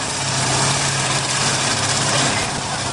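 A monster truck engine roars loud and steady as the truck approaches a jump at a European Monster Truck Racing show, its heavy low drone holding for about three seconds against crowd noise.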